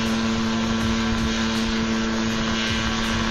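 A homemade single-seat open-cockpit AW95 Choppy helicopter runs with a loud, steady engine drone and a rapid rotor chop, close and continuous throughout with no voices.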